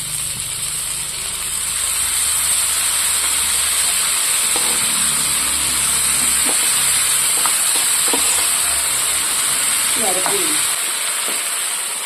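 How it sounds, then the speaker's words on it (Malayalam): Tamarind water splashes into a hot pan of Kerala drumstick theeyal curry, giving a steady sizzle and bubbling with scattered clicks of utensils against the pan; no one speaks. "ഇനി ഇതിലേക്ക് ഒരല്പം പുളിവെള്ളം ചേർത്ത് കൊടുക്കുന്നുണ്ട്."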